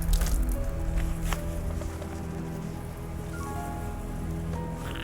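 Water splashes and trickles steadily onto a surface nearby, a continuous wet pouring sound with no voices.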